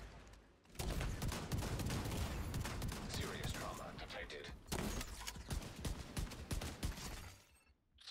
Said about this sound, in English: Battle of the chem launchers right now.